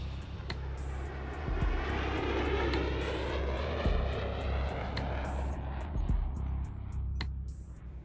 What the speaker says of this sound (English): people have expressed unease about drones, which are remotely piloted aircraft